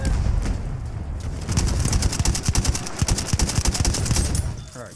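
Rapid bursts of automatic gunfire and scattered single shots from online multiplayer play of the video game Battlefield 1, loud and dense across the whole stretch, with no talk over it.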